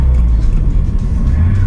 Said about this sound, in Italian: Questo rumore che sentite ogni volta che cambio marcia